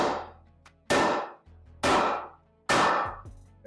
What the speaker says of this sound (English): we're just gonna hammer that square into there